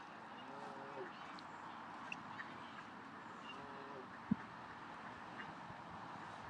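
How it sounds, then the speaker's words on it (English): Ducks quack softly in a park at Queen's Park, Longton, Stoke-on-Trent, a few faint calls scattered over steady outdoor background noise, with a brief louder knock partway through. "There's lots of birds here anyway."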